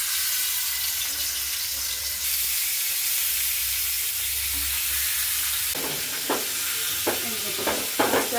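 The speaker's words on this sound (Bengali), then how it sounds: "মাছটা আগে ভাজি না, তারপর হলো রান্না করে একটু ভাইজা নেই" Rohu fish head and tail pieces, marinated beforehand, frying in hot oil in a pan, a loud continuous sizzle held close throughout, with several sharp spatula scrapes and knocks toward the end.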